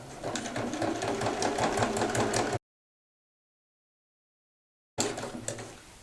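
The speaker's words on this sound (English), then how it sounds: "You're going to stitch from the side seam to the side seam across that base" A sewing machine hums in a fast, steady rhythm while stitching a bag's base seam, close and clear, cutting off to silence midway before running again briefly.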